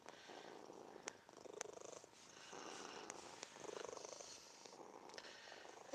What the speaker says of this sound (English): This is just her purring.